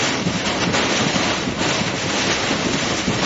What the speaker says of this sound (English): Here comes some strong wind.